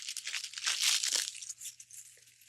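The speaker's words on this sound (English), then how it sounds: "man, they really packaged this up really well. I'm telling you guys. Look at this. I'm still unwrapping this." Crinkling, tearing packaging as a well-wrapped parcel is opened up close, a dense run of rustles and rips swelling in the middle and easing off toward the end with no talking.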